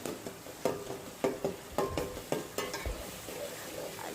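A spoon stirs spice masala through macaroni in a pan, giving repeated scraping, clattering strokes about every half second over a soft steady sizzle, close and alone with no talking.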